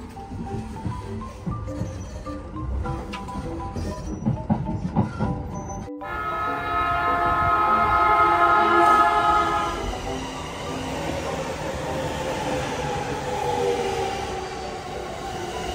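A long train passes near the Narita Express line in Japan, rumbling and clattering steadily with a loud swelling roar and a sustained squealing, ringing tone from the wheels, while other noise is heard briefly beforehand.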